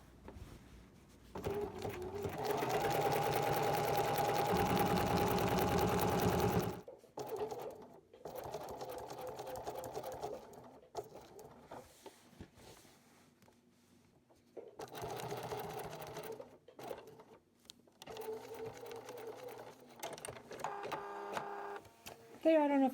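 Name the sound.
sewing machine zigzag stitching around quilt triangles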